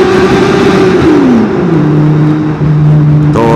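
A motorcycle engine roars loudly and close, its pitch sliding down as revs drop through a sustained drone, then a sharp burst near the end, with no talk.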